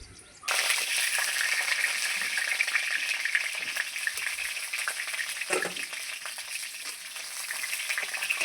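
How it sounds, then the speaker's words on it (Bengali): Large pointed gourds fry in hot mustard oil in a kadai, giving a steady, loud, close sizzle that starts abruptly and runs throughout with light stirring. "দেখুন পটলগুলো আমি কত সুন্দর করে ভেজে নিচ্ছি।"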